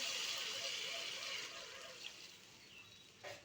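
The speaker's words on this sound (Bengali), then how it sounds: "ফুলকপির মধ্যে জল দিয়ে দিচ্ছি" Water poured into a pan of cauliflower being cooked for a singi fish curry, a steady broadband hiss of liquid that slowly fades over a few seconds, with a small splash near the end.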